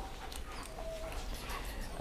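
A black Malinois stud dog at a breeding kennel gives soft, thin whimpers over a steady background hum, faint and close, with no talk.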